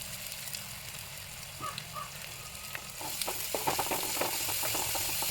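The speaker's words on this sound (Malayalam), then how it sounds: "കുറച്ച് ഉപ്പും കൂടെ ഇട്ട് നല്ല രീതിയിൽ വഴറ്റിയെടുക്കുക" Onions and ginger sautéing with salt in a pan, a soft low sizzle that grows louder and busier midway as stirring scrapes and crackles pick up, with no one speaking.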